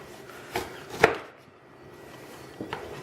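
A knife cuts the top off a bell pepper on a cutting board: three crisp, close chops, the middle one loudest, spaced over a few quiet seconds.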